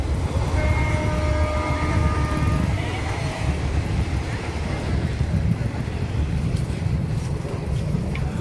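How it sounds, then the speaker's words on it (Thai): A train rumbling past close by a trackside market, with a steady heavy roar, a brief horn-like tone early on, and wind buffeting the microphone. "นู่นรถไฟ ริมทางรถไฟเลยนะรถไฟ"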